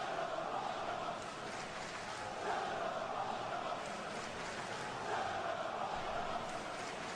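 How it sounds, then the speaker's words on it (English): An arena crowd at a wrestling event in Madison, Wisconsin shouts and jeers at a wrestler, a raucous swelling roar of many voices heard at moderate distance, with an announcer talking over it. "This is a surprisingly raucous crowd here tonight."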